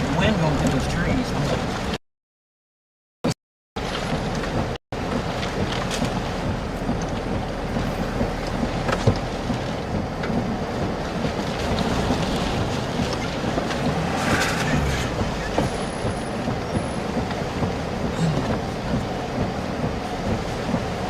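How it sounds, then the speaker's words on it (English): Strong storm wind roars steadily through trees near the Red River during severe weather, a loud continuous rush with gusty buffeting, cut briefly by a moment of silence. "It's going, wind going through those trees."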